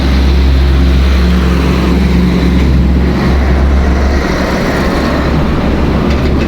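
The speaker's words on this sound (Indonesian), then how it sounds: "Loh, coba kita lihat truk ini ya, ini nggak kenceng." Truck rolling slowly along a bypass road, a loud, continuous low engine and tyre rumble heard close by with no speech over it.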